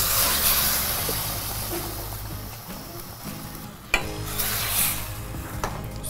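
Hot water pours into a cooking pot holding squash, giving a steady hissing, bubbling rush that fills most of the span, with a brief clank near the middle before the pour resumes.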